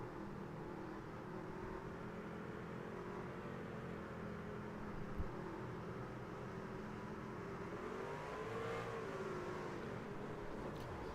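A race car engine revving in second gear on a track, a faint, distant whine that rises and falls steadily with a brief swell near the end, no talk.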